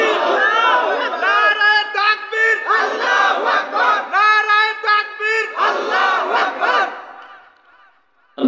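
A large crowd at a Bangladeshi religious sermon gathering roars a repeated rhythmic chant in unison, several loud surges in a row. The chant fades into silence at the end.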